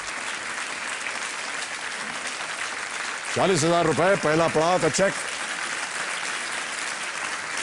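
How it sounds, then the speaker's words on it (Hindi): Studio audience applause on a quiz show: steady clapping runs throughout, while someone speaks briefly over it in the middle. "तालियां बजती रहे देवियों और सज्जनों।"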